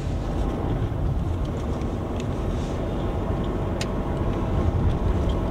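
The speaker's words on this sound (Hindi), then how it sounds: "क्या ये होंडा यहाँ चढ़ पाएगी यार, चौथे गियर में चढ़ रही है" A Honda car's engine drones steadily as it climbs a hill in fourth gear on a road toward Nainital, with a constant low rumble and road noise heard from inside the car.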